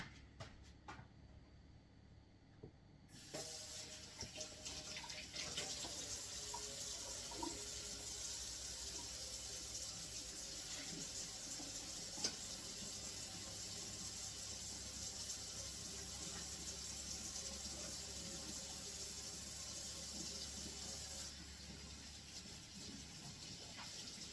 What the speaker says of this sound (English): So I just wash my hand and making sure everything's good.